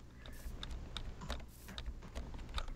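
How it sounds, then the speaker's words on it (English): Quiet, steady clicking of someone typing on a computer keyboard, a continuous patter of light keystrokes at close range with no talking. "I'm typing it in chat"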